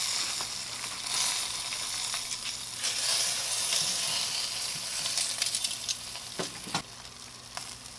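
Ribs sizzle loudly on a Gourmet Guru grill, a steady close hiss and crackle of frying fat with a few scraping and shifting clatters as the meat is arranged, and no voices.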